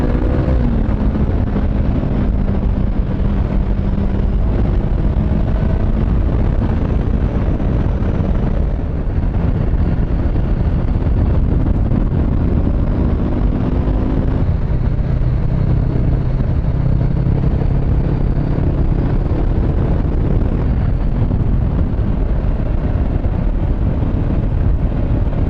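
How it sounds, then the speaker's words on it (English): A motorcycle cruises along a road, its engine droning under constant loud wind buffeting the microphone, pitch shifting slightly with throttle changes over a long steady ride, no talking. "But what I shall do is enjoy why this bike is so good on road as well as off road."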